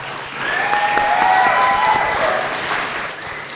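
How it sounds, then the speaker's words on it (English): An audience at a networking event claps for the speakers, a dense burst of applause that swells and then tapers off, with a few voices faintly mixed in. "Huge round of applause for our speakers."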